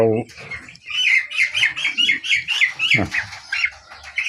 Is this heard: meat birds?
yes